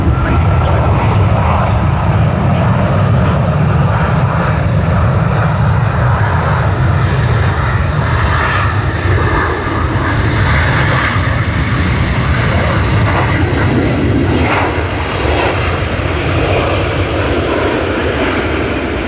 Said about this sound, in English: let's capture Qantas's A380